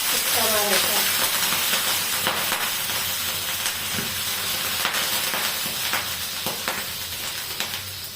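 Water sprinkled onto a hot tawa griddle sends up a steady, loud hiss of steam. It carries on for the whole stretch with small clicks, while someone talks over it.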